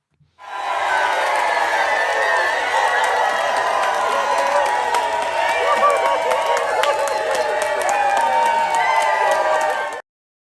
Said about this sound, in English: That applause is for you right there.